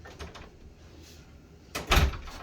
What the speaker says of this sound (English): place the thick part of the door anchor over the door and then just close the door